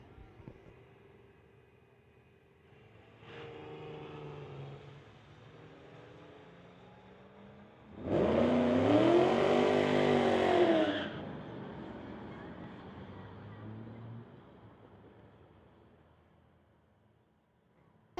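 Street-legal BMW and Lexus cars drag racing at a strip, engines revving at a distance, a loud roaring pass swelling in the middle, then fading away.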